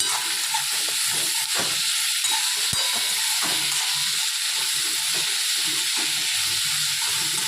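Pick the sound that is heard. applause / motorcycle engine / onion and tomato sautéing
onion and tomato sautéing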